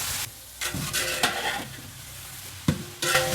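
A large batch of onions is sautéed and stirred in a pan for a Kerala-style chicken curry. Short bursts of stirring and scraping come close up over a low, continuous sizzle.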